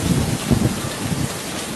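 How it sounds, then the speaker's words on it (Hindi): Heavy rain pours steadily in a Hindi animated story, a dense continuous hiss with low rumbling swells and no voices. "इस बारिश को देखकर लग रहा है कि कहीं नदी में बाढ़ ना आ जाए"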